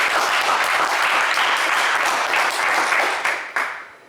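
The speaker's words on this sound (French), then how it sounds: "on vous applaudit également." A TV game show studio audience applauds, dense steady clapping filling the room, loud and close, then thinning out and stopping near the end.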